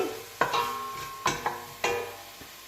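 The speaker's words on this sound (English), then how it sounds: "So the onion's cooking down nicely." Onion and garlic cook down in a pan for a risotto, with a few distinct spoon knocks and scrapes over a quiet sizzle, close and without speech.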